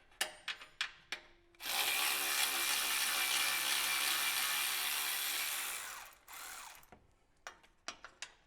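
A ratchet spun continuously for several seconds during an auxiliary fuel tank install on a 200 Series, giving a steady, close whirring rasp, framed by short clicks and knocks before and after.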